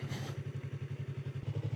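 Motorcycle engine while riding, a steady rhythmic low thrum of firing pulses, moderately near, with faint wind noise over it.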